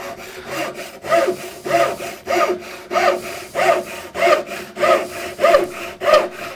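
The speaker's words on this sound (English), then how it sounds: "So you can hear that cutting nicely on the pull stroke." A hand saw cuts wood with a steady run of about ten even strokes, each rasping burst coming on the pull, close and loud with no talk over it, while a small box is being made.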